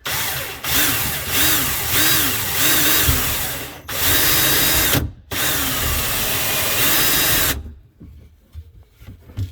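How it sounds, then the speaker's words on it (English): A power drill bores a 3/8-inch hole into the side of an RV grey water tank, whining loudly in several bursts with brief pauses between, then stopping and leaving quiet handling noises. "Drilling a hole in the side of your gray tank."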